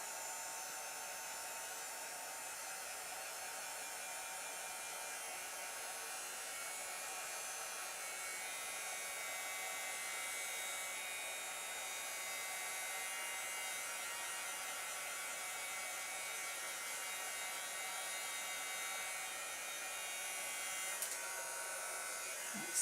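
A hair dryer runs steadily at close range, blowing on wet chalk paste applied to a craft surface, with a constant whirring hiss and no break throughout.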